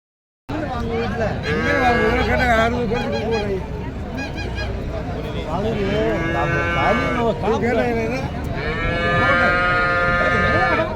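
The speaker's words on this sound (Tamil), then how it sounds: "நிறைய ஜெர்சி மாடு வந்திருக்குங்க" Many Jersey cows moo loudly and continuously, their calls overlapping, over a steady murmur of crowd noise outdoors at the Karungalpalayam cattle market in Erode, Tamil Nadu.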